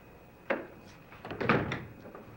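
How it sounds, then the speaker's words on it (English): A door swings shut in a quiet room of an old house in a television drama, with a soft thud, a brief pause, then a fuller knock and rattle as it settles closed nearby. "Just close the door."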